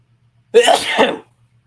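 A single sharp sneeze bursts out in an otherwise quiet moment, lasting under a second.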